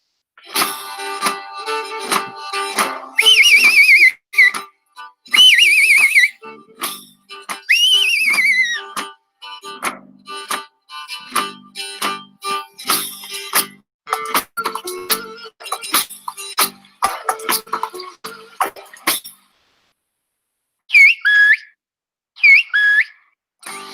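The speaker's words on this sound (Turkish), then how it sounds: "ıslık dilini bakın arkadaşlar nasıl kullanıyorlar" Piercing whistled phrases rise and fall in pitch, exchanged in short bursts with pauses between them, clear and loud with clicks and knocks around them.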